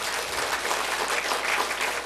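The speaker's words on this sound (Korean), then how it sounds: "큰 박수로 축하해 주시기 바랍니다." Congregation applause in a church service honouring scholarship recipients, dense steady clapping throughout.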